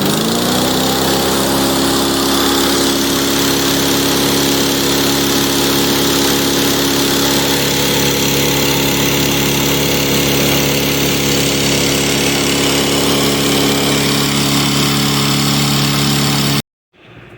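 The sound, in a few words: Cub Cadet self-propelled lawn mower engine cold starting and running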